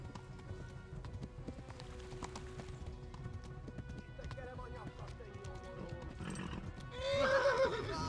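Galloping hooves pound steadily under a speaking voice, ending in a loud, close horse neigh, in the video game Kingdom Come: Deliverance.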